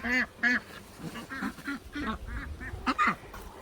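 Repeated loud duck quacks, a cluster of ducks calling close by in quick bursts as they are fed, with faint rustling underneath.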